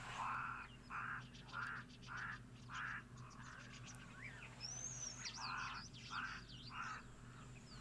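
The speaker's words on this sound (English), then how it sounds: "what are the other sounds, little birds that are around" Small birds call in open African bush, faint distant chirps and rhythmic pulsing calls in repeated bursts over a low steady background hum, with no voices.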